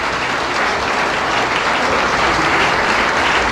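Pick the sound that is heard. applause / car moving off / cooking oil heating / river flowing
applause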